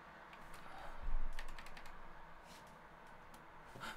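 Key presses on a computer keyboard during PC assembly, a few soft, quiet clicks with one slightly louder tap near the start, over a low steady room hum.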